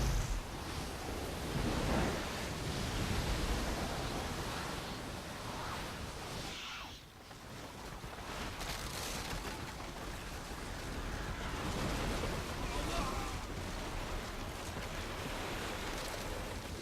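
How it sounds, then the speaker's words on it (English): A massive wave crashes and surges in Final Fantasy X, a broad, loud roar of rushing water and wind that runs steadily with a brief dip midway, with no voices. "If you've ever been hit by a massive wave, you will know there is no surviving this."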